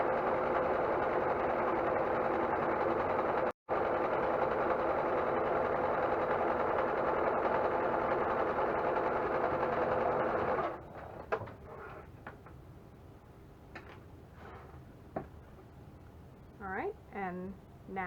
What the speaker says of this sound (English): we're going to sew right on top of that, a 1/4 of an inch away from the edge of the fabric